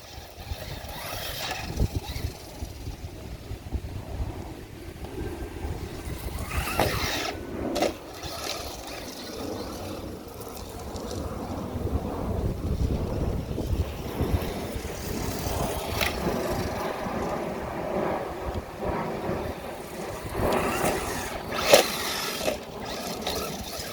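A Traxxas Slash RC truck runs outdoors with a whining electric motor rising and falling as it accelerates, plus bumps and scuffs from rough driving, steady and fairly close throughout.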